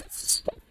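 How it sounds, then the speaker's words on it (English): Chicken drops into water with a single soft plop near the middle of a brief, quiet moment, with faint background hiss around it. "Did you hear that plop?"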